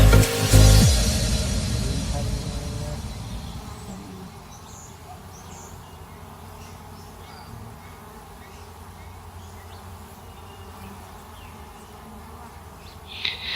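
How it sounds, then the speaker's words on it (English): A steady, dense buzzing drone of many honeybees around a hive during an inspection fills the air, with a loud bump of handling at the start and faint chirps now and then. "There was a lot of bees on that frame."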